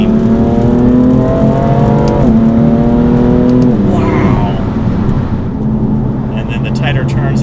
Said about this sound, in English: Alright, so second gear. And you got some turbo noises too